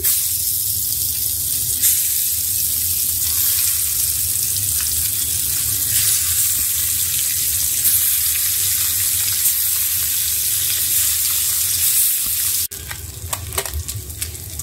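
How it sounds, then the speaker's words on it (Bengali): Fish frying in a pan until crispy after gourd was fried, a loud, continuous sizzle close up that runs steadily, then shifts near the end to brief clatter and running-water sounds. "এখন মাছগুলি ভেজে নিচ্ছি"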